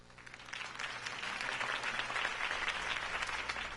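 A crowd applauds steadily at a political rally after Harvey Dent's campaign speech in Batman: The Telltale Series, with dense clapping and a few cheers, moderately distant and sustained throughout.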